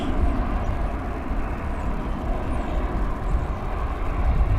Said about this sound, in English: Let's check out a Delta flight leaving.